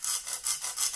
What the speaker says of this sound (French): on va prendre la scie à métaux et on va